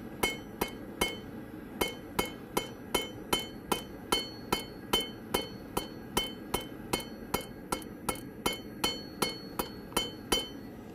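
Close, bright hammer blows from a cross peen hammer forging steel ring out in a steady, even rhythm, roughly two strikes per second, over a low background hum, with no talking.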